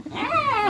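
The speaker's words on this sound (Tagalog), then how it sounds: "Nangaaway ng ibang aso." A dog lets out a brief, low growl that rises into a snarl while it scuffles with other dogs at home.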